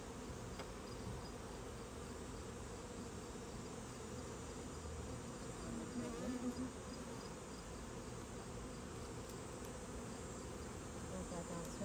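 Honey bees drone steadily around open beehives during a hive inspection, a dense, continuous buzz from many insects at close range with no voices.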